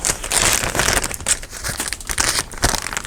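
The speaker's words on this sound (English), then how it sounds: "I think I have some plastic packaging here that I can use from a recent haul" Plastic packaging from a shopping haul is pressed down over a paper napkin, giving close, continuous crinkling and crackling with uneven bursts of rustle.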